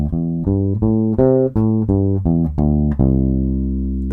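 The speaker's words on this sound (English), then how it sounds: "the difference between major and minor pentatonic sounds like this" Bass guitar playing a major pentatonic scale, up and back down in about ten evenly spaced plucked notes, close and loud, with the last note left ringing; no talking.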